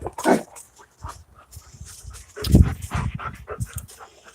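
A nearby dog pants in quick, breathy bursts broken by soft whimpers, with uneven pauses between them and no talk over the top.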